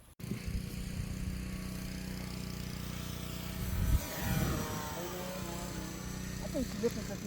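FMS 800mm P-51D V2 RC model plane flying, its electric motor and propeller making a steady droning whine throughout with slight pitch shifts, while people talk under it.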